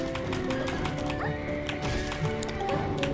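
Hoofbeats of a horse galloping in Black Desert Online, a steady clip-clop rhythm mixed into continuous game music and ambience, fairly loud and unbroken throughout.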